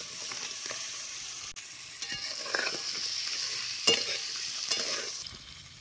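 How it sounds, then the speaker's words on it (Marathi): Crab pieces stirred and fried in hot oil with chutney masala, a continuous crackling sizzle broken by repeated scraping strokes of a spatula against the pan, close and fairly loud. "आता हे नांगण पोट जरा तेलात खालवर करून घ्यायचं."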